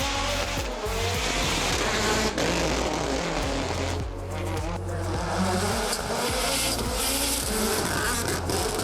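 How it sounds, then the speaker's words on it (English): AP4-spec Hyundai i20 rally car driven sideways at the Waimate 50 motorsport festival in 2019: a loud, continuous engine roar with shifting revs and tire squeal as it slides past, close and dominant throughout. "Back again with the AP4 spec Hyundai i20 rally car, serving up plenty of sideways entertainment."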